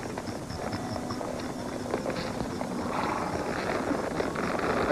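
Steady hoof clip-clop from a horse on the move, mixed with a dense, continuous background rumble; fairly loud throughout.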